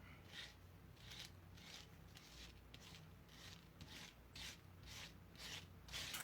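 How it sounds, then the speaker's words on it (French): A silicone painting knife mixing paint colours on tissue paper, making soft repeated rubbing and scraping strokes in an even rhythm, quiet and close, with no talking. "je vais mélanger un petit peu mes couleurs comme ça"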